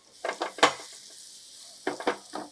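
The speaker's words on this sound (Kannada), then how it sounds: "ಗ್ಯಾಸ್ ಸ್ವಲ್ಪ ಮೀಡಿಯಂ ಫ್ಲೇಮಲ್ಲೇ ಇಟ್ಟು ಫ್ರೈ ಮಾಡಿ" Milk-powder paneer pieces frying in a little oil on medium flame, with brief clattering bursts of handling between quieter stretches of soft sizzle.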